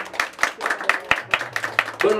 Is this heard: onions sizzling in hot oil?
no